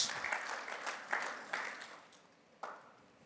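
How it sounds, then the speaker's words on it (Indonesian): Applause from a church congregation during a Sunday worship service, fairly faint and settling quickly, with a few sharper clap bursts rising again before fading out. "Dan tepuk tangan bagi Tuhan Yesus."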